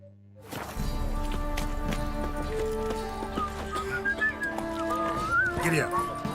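Horse galloping in The Witcher 3 video game, steady hoofbeats under game music and ambience, with a whinny and voices speaking over it.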